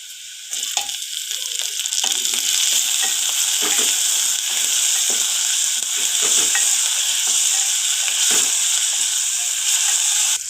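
Tomatoes and green chillies fry in a pan for vermicelli upma, a loud continuous sizzle with occasional stirring scrapes, heard alone without talk.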